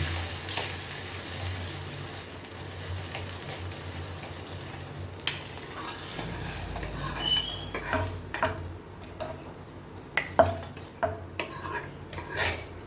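A spoon stirs and mixes sizzling tempering into sambar in a metal pot, the scrape and clink of utensil against the pan growing sharper and more frequent toward the end, with no one speaking.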